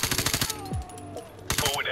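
Rapid automatic gunfire from Call of Duty Modern Warfare Remastered, close and loud, rattles in two bursts separated by a short lull. A falling whistle-like effect and other game sounds fill the gap.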